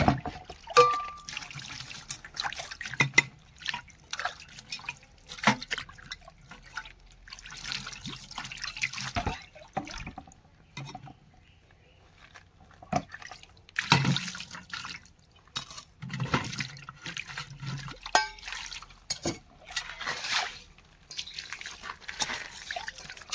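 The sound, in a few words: water poured over cleaned vessels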